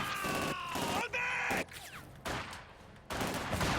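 Dense bursts of gunfire and explosions from a real-time strategy video game battle come in loud, choppy waves broken by brief lulls, with voices mixed in among the shooting.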